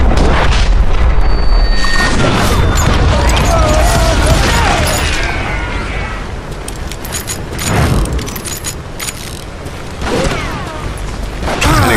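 Loud booming gunfire and clattering action in the Wild West shooter Call of Juarez Gunslinger during a fight with Apache warriors. The shots come as sharp bursts over a constant noisy din, easing off somewhat toward the end.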